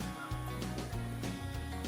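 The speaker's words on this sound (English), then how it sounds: "Chickens are on this side." Low, overlapping chicken calls in a farm barn, steady clucking and murmuring from several birds close by with no pauses.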